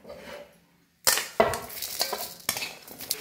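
Roasted coconut, dry-toasted for homemade red chilli masala powder, is stirred and scraped out of a pan with a metal utensil, giving sharp clinks and gritty scrapes close by.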